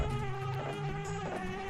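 Bees buzzing around a beehive in the video game Banjo-Kazooie, a continuous droning insect hum layered over steady tonal background music, moderately loud and unbroken.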